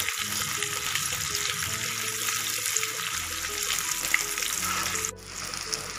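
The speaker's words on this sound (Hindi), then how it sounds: "उसके बाद मैं उसमें कटे हुए प्याज ऐड कर दूंगी, तो मैंने रफली चॉप कर रखे हैं और इनको लाइट ब्राउन होने तक भून लूंगी।" Roughly chopped onions fry steadily in a pan while making matar paneer at home, a continuous close sizzle with occasional stirring and a brief drop in level near the end; no talking.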